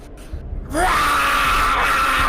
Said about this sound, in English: these enraged screams from all around